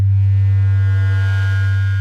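Sequential Prophet X synthesizer playing a steady sustained tone with oscillator 1's pan modulated at audio rate, giving a buzzy, slightly aliased edge over a strong low fundamental, loud and alone.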